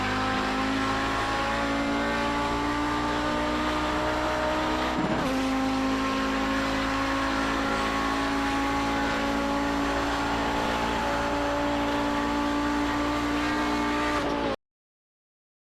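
Audi 90 GTO race car accelerating hard around Road Atlanta, a loud, close, sustained engine roar with steady high harmonics and a brief shift-like dip partway through, no talking.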